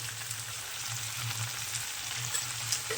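Chopped vegetables, spring onion leaves and a pinch of salt fry over low heat in a pan for a vegetable and egg pasta, giving a soft, steady sizzle close by with no talking.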